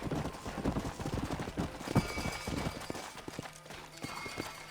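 Horse hooves clip-clop at a steady walking rhythm in the Red Dead Redemption western game, close and fairly loud, with a soft bump midway and ambient outdoor noise behind.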